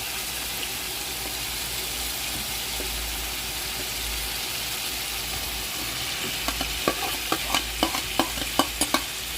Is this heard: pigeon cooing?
no